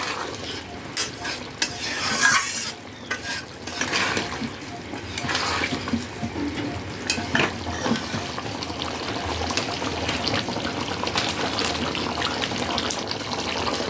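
Garam masala being stirred into a simmering chicken curry in a pot, with steady scraping and wet stirring over a continuous sizzle, fairly close and moderately loud throughout.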